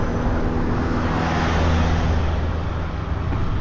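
Motor traffic rumbles steadily along a road near the Loire at Meung-sur-Loire, a road shared by cars and bicycles, with a continuous loud engine and tyre drone and no voices.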